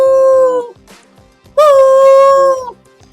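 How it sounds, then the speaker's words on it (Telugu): Dogs howl at night in two long, loud, close wails separated by a short pause, with faint yips and barks between them. "కుక్కలు అరుస్తున్నట్టున్నాయే."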